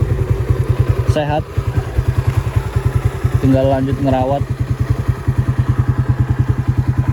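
Suzuki Raider 125 motorcycle idling close by, a steady rapid low putter with even pulses throughout, while a person talks over it in a few short bursts.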